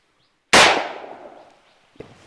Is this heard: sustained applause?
no